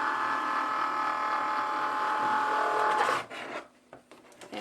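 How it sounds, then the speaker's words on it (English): A Cricut Maker unloads its cutting mat with a steady whirring motor hum. The hum stops abruptly after about three seconds, leaving a few faint clicks and handling sounds. "Just gotta unload the mat now."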